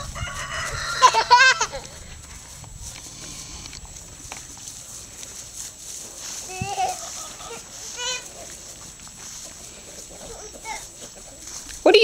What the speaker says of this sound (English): There's a chicken that's loose.